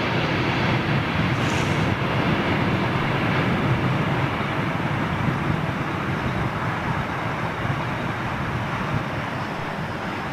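An Etihad jet lands at London Heathrow, giving a steady, loud broadband roar of engines and rushing air that holds unbroken throughout with no talk over it.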